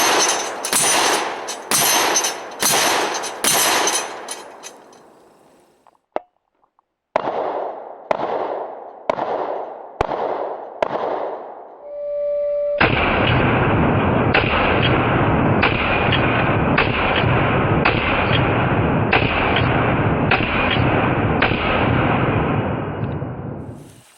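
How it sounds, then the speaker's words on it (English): A Mossberg 930 SPX gas-operated shotgun fires Rio buckshot at a steel target outdoors: two rapid strings of loud, sharp blasts with short pauses, then a long stretch of fast, nearly continuous booming shots. "We're going to shoot some of the buckshot at it."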